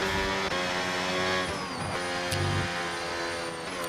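A race car in Project Gotham Racing, on a slow in lap at Abu Dhabi, hums with a steady engine drone at moderate revs, its tone dipping and shifting slightly, with a faint squeal partway through.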